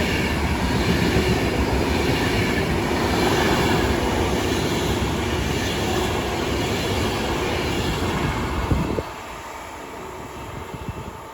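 A Class 390 electric train rolls slowly through Watford Junction on the West Coast Main Line, a close, steady rumble of wheels and carriages that holds for about nine seconds before dropping away to quieter station ambience.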